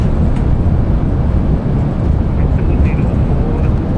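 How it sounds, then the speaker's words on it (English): Thrust reversers of a Boeing 787-8 roaring on landing at Manchester in a flight simulator, a loud steady broadband rush that holds throughout with no gaps. "Reversers are out. Decelerating."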